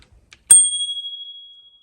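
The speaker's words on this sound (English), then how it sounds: "And this is a bell." A single bright ding from the bell of a Ninebot Segway E2 Plus electric scooter, struck once after a couple of light taps, ringing out and fading over about a second.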